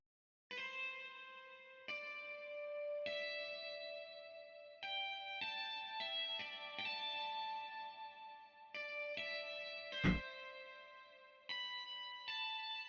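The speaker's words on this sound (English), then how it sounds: "the guitar sounds like this" Electric guitar playing a slow, sustained melodic pattern of ringing notes washed in reverb, with a sharp percussive hit near the end.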